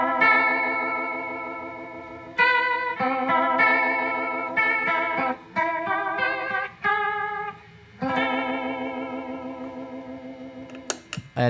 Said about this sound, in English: Now I'm gonna turn on the small clone and I'm going to turn on the DOD booster.